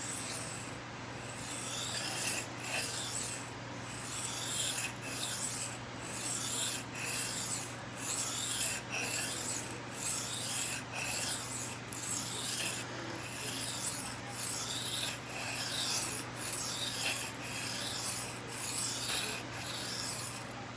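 EDC knife edge sharpened on a stone, steady rhythmic rasping strokes about one per second, close and continuous for around twenty seconds without talk.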